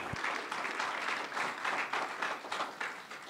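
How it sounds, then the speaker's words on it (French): An audience at a panel discussion applauds the panelists, steady clapping in pulsing waves at moderate level with no voices. "Est-ce qu'on pourrait avoir une bonne main d'applaudissement pour nos panélistes aujourd'hui?"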